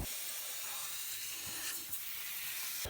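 Compressed air blows off outdoor spray equipment that sits under trees and collects sap. It makes a steady, even hiss at moderate distance, with no voices.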